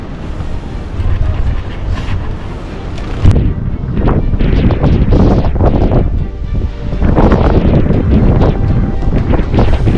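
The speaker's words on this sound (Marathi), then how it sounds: "हवा डेंजर सुटली बघा." Strong monsoon wind gusting through a jungle campsite, heavy buffeting roar against the microphone with rustling foliage, loud and continuous with surging gusts.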